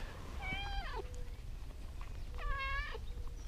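A domestic cat gives two distinct meows about two seconds apart, each a short, slightly descending cry, fairly close but soft over a quiet background hum.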